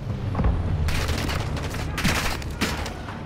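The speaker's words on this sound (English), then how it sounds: "You've got a mortar incoming," Incoming mortar fire in Call of Duty: Modern Warfare II, a loud continuous barrage of heavy explosions and rattling gunfire with several booming impacts rolling through the battlefield din.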